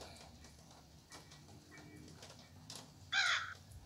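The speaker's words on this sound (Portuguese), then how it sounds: "Tem um passarinho, velho." A bird calls in a Granny mod video game: one sharp, loud caw-like cry that bursts out near the end over a quiet, low background hum.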